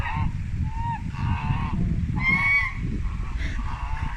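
A duck or goose gives several loud nasal honks close by, in short bursts separated by brief pauses, over a steady low background rumble.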